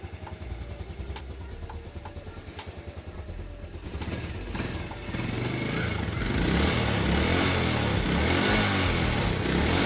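Yamaha Vega R motorcycle with a stock body, its small single-cylinder engine idling with a steady close putter, then revving up into a louder, rougher continuous drone that holds to the end.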